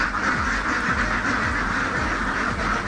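Ducks on a newly built poultry farm quack in a repeated, overlapping series over a constant background hum.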